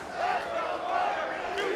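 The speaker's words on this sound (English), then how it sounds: "A divided crowd here tonight." Divided wrestling crowd in Charlotte chanting steadily during a pro wrestling match, a dense mass of voices rising and falling throughout with no clear single voice.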